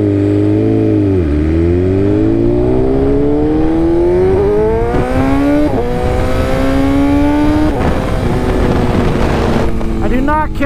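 A motorcycle with an aftermarket exhaust revs and climbs through the gears, pitch rising steadily with a harsh, raspy exhaust note, then a crackle as it settles.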